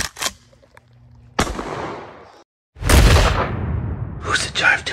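An AR-15 rifle firing 5.56 rounds at a frozen turkey outdoors produces loud, sharp gunshot cracks with ringing decay, two or three separate blasts spaced by short gaps.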